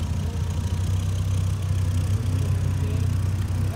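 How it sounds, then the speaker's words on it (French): Supercars such as Ferrari, Lamborghini and AMG models idle in a queue at the GE Supercar meet entrance, a steady low engine rumble with a slight vibrating throb, close and continuous, with no voices. "Comme d'habitude, ça bouchonne de supercars à l'entrée du rassemblement de GE Supercar."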